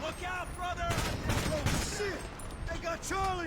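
Gunfire in GTA Online during a shootout with drug dealers, a burst of rapid shots in the middle with scattered single cracks around it, loud and close, heard under excited talk.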